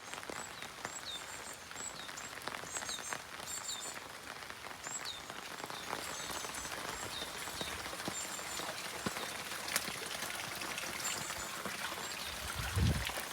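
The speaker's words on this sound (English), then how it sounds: "The rain just trickling and dripping all the way down." Rainwater in Japan trickles, drips and flows everywhere, making a soft, continuous wash of running water with scattered close drips. It stays quiet and even, with no one speaking.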